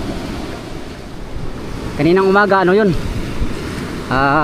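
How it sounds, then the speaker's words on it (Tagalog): Steady roar of large breaking ocean waves during a typhoon at Dinahican, Infanta, Quezon, with wind noise, as a person speaks briefly over it partway through. "Kung gaano nakalakas yung alon, kalaki."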